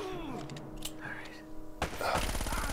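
Gunfire in Uncharted: Drake's Fortune, a few scattered sharp shots over game sounds and voices, then a dense rapid burst of firing close up near the end.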